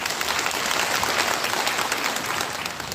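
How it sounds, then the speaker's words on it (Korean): A crowd at a senior employment program event in a community center gives a loud, dense round of applause, a steady wash of many hands clapping that eases slightly near the end. "큰 박수 한번 부탁드리겠습니다"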